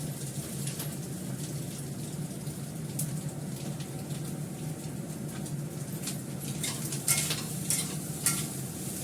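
Chowmein stir-fried in a dry pan with no oil, producing a continuous close crackling sizzle with frequent scraping stirs and sharper clatters toward the end.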